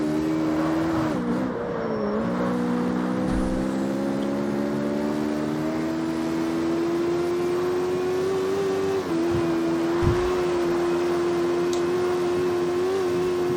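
Sustained engine drone from a car in the street-racing video game CarX Street, driven fast along small roads, holding a steady high-revving tone with slight pitch shifts and brief dips, loud and continuous throughout with no talk.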